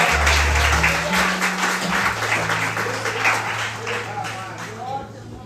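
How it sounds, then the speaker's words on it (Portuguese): A church congregation applauds together during a Sunday morning service, a steady wash of clapping under a sustained low organ or keyboard chord, with a voice speaking over it throughout. "Você pode aplaudir ao Senhor com o seu melhor?"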